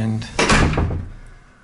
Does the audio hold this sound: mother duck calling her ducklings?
no